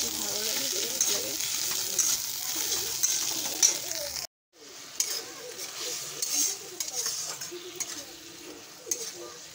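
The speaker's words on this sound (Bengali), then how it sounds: "মাছের ডিমটা ভাজা করে নিয়েছি" Fish roe sizzles and crackles in a hot pan while being stirred, a steady frying hiss with a short break midway, and faint bird calls in the background.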